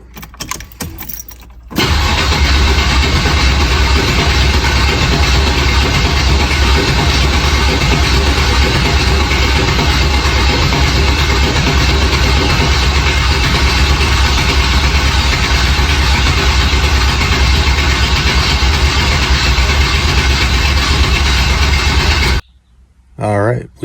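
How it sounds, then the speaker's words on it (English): Car engine cranking over on the starter without firing, run only to build oil pressure after a weak battery, a loud steady churn lasting about twenty seconds before stopping abruptly. "crank the engine over, make sure we got oil pressure before we start trying to fire it up"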